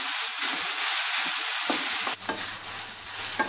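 Grated carrots for gajar halwa being stirred and roasted in a pan over a gas flame, a steady soft sizzle with scraping stir strokes throughout, fairly close and without talk.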